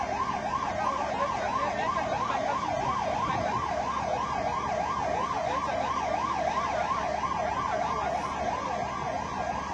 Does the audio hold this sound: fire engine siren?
yes